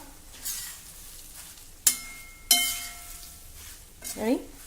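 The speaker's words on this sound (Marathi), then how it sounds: "मंद गॅसवर आता हे व्यवस्थित आपल्याला परतवून घ्यायचे आहे" Quiet stirring of poha in a tempering pan over a very low flame, with a couple of sharp metallic clinks of a spoon against the rim, and a faint sizzle underneath.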